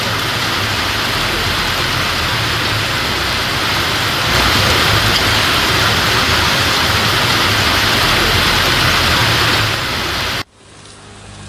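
Moderate rain falls in a steady, dense hiss that stays loud and even for about ten seconds before cutting off abruptly near the end.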